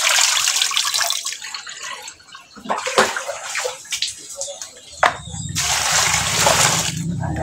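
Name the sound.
water running while washing fern vegetables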